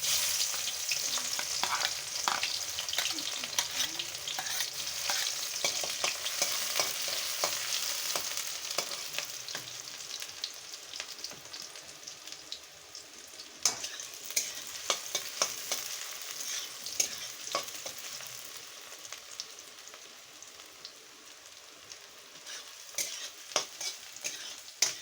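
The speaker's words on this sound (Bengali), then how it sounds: "তেলটা গরম হয়ে গেছে, এখন আমরা এখানে পেঁয়াজ কুচি দিয়ে দিব।" Chopped onion fries in hot oil with a fairly quiet, constant sizzle, while a spatula stirs and scrapes the pan in scattered clicks throughout; no one talks.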